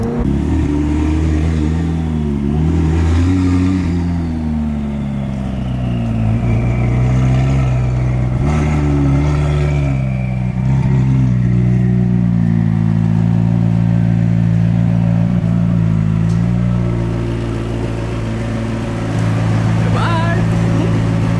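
A car engine accelerates and holds a droning, rising tone on a late-night drive, with sustained revving and shifting pitch throughout, loud and close inside the cabin.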